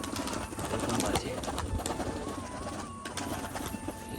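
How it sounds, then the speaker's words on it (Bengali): A black Jack King male pigeon coos close by among other birds, with steady background noise and faint voices mixed in throughout. "নর পায়রা চলে আসলো নিচে"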